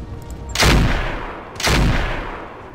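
Gunfire in the video game Roguepoint: two heavy booming shots about a second apart, each a loud broadband blast with a long rumbling decay, and no voices over them.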